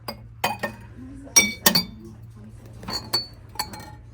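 Glassware in a thrift store clinks and knocks sharply several times as it is picked up and handled, in bright irregular bursts close to the microphone over a low background hum.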